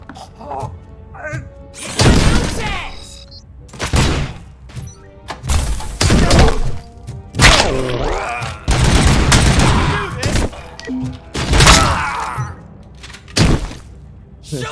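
Gunfire fills a firefight in RoboCop Rogue City, with loud bursts of shots and heavy impacts coming in clusters separated by short lulls, and voices speaking in between.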